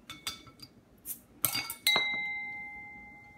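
A Bottle Logic Red Rover beer bottle is opened, giving a few sharp glassy clinks and clicks that end in a bright ringing tone slowly fading out, close and alone.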